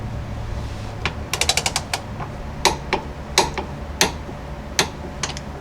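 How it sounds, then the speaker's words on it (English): A torque wrench tightening frame stiffener bolts on a Jeep Cherokee XJ unibody to 55 pound-feet, giving a run of crisp metallic clicks, some in quick bursts, others spaced apart, up close with no voices. "Now I'm going to go back and torque them down."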